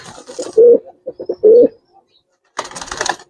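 Giribaz pigeons coo at close range, two deep, drawn-out coos interspersed with shorter soft throaty notes, followed by a burst of rustling noise.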